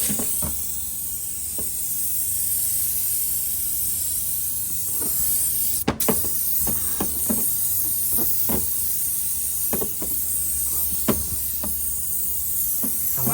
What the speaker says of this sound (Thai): ก็จะทำการใส่สเปรย์ หล่อลื่นใต้สายพานนะครับ